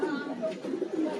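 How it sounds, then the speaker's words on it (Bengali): Pigeons cooing in a loft, soft throaty repeated coos close by, with someone talking over them. "পায়রা কি অ্যাক্টিভ দেখেন"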